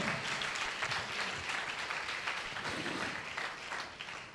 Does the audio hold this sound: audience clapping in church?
yes